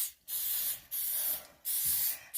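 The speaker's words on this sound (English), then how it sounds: "I'm going to spray these before I forget." Three separate bursts of cooking oil spray hiss out one after another onto pans, each lasting about half a second, close by and fairly quiet.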